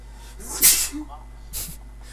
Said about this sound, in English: sneezing in the background